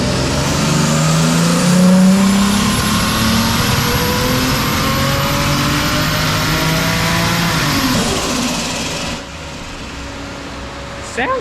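A car engine with an 8HP transmission roars loudly at high revs on a dyno at 22 PSI boost, holding a sustained wail before the pitch drops and the noise winds down.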